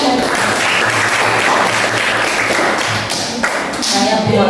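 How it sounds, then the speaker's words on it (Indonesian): A group of people applauds for a group representative in a classroom-style session, steady dense clapping running continuously at close range with no talk over it. "kita beri tepuk tangan untuk perwakilan"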